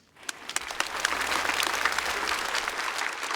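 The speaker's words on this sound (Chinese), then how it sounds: "我们掌声给所有的演员" A comedy club audience bursts into applause for the performers of a stand-up show, the clapping swelling quickly and holding dense and steady, with a few sharp near claps on top.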